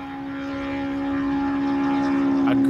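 A Honda Civic race car with individual throttle body trumpets holds a steady, high-pitched engine drone at the Snowy Mountains 1000, swelling gradually louder as it approaches.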